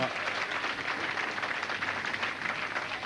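A bowling crowd applauds a converted spare at the 1988 Goldpin Classic match, steady dense clapping from many hands, fairly close and continuous throughout.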